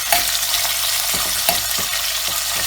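Fish pie filling of mackerel fries in a pan with a steady, close sizzle, broken by a few soft stirring scrapes.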